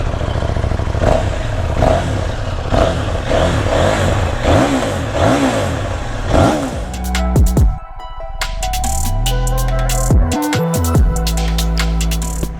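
A 2023 KTM 790 Duke motorcycle engine revving for a sound check, a loud, close series of rhythmic throttle blips rising and falling, then sweeping revs and an uneven idle.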